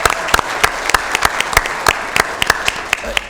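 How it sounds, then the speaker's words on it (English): A modest crowd at a Sacramento County Board of Supervisors meeting claps steadily, sharp individual hand claps overlapping in an irregular patter for a few seconds. "How about a round of applause for Dave?"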